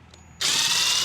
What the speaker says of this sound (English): we're going to drill a hole